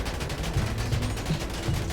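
Gunfire at a car in GTA 5 Online, a dense stream of muffled shots pounding steadily over a thick rumbling game background.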